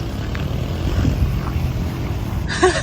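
A Ford Bronco Heritage Edition engine crawls along in crawl gear, giving a loud, steady droning rumble with wind buffeting. A brief brighter burst comes near the end.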